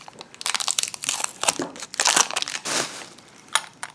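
Adhesive tape peeled off a tiny thrift-store glass jar, a series of close, crackly ripping and crinkling bursts with short pauses between them, no voices.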